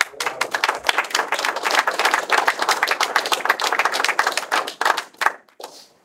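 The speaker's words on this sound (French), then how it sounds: "Je crois qu'on peut les applaudir." An audience breaks into brisk applause for museum volunteers, rapid claps close and fairly loud for about five seconds before tapering off into a few last claps.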